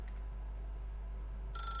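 A telephone in The Stanley Parable Ultra Deluxe starts ringing late in the moment, a bright electronic ring cutting in over a steady low hum.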